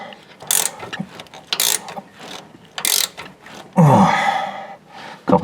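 A hand ratchet tightens a nut on the rear suspension bump stop of a Chevrolet Suburban, giving a few separate bursts of quick metallic clicking, then a loud breathy exhale near the end.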